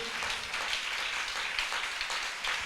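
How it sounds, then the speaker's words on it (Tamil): Church congregation clapping hands in unison, a steady dense patter of many palms filling the space for the whole stretch at moderate loudness. "என்ன விசுவாச கைத்தட்டு"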